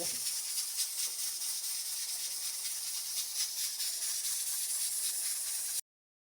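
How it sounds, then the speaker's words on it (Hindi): Oil hissing as it is poured into a pan of onions and tomatoes on a lit stove, a steady broadband hiss that holds evenly for about six seconds and then cuts off abruptly, with no talking. "प्याज और टमाटर डाल दिए, तो अभी ऑयल डाल रहे हैं।"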